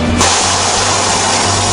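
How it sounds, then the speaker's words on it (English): Loud, sustained rushing hiss of escaping air as a tire bead is broken off the rim, starting abruptly and continuing steadily, close up with a low mechanical rumble underneath. "That's the sound of the bead being broken."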